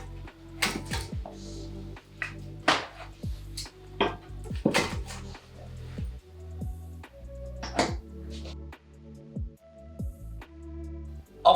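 Wooden logs are loaded into a Clock Blithfield 5kW multifuel stove, giving a string of close, irregular knocks and clunks as pieces thud against the firebox, with brief quiet gaps between hits.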